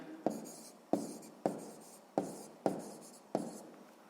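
A pen writes numbers on paper during a sixth-grade maths exercise, giving six short scratchy strokes at a steady pace. The strokes are close and fairly quiet, and nobody speaks.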